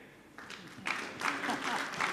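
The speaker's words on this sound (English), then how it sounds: "You have to clap here." An audience at a neurotherapy lecture on skin disorders breaks into clapping that starts thin and swells into a moderate, steady patter of applause.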